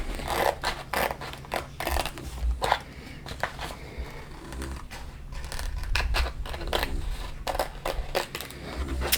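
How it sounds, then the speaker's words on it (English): Scissors snip in quick irregular bursts while fussy cutting around lily pad stickers, close and crisp with short pauses between runs of cuts and faint handling noise. "So I'm just going to fussy cut around the lily pads."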